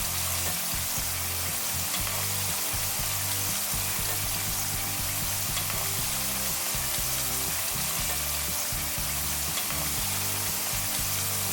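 Potato slices frying in plenty of oil in a flat pan over low heat are turned over, keeping up a steady soft sizzle throughout under prominent background music.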